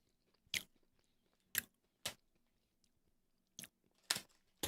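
Crunchy chocolate-and-wheat snack being bitten and chewed close up, five sharp crunchy bites spaced irregularly with near silence between them.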